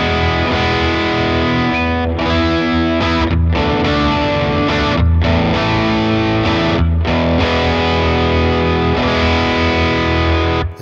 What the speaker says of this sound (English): The next one is based on a Vox 2x12 Fawn cabinet.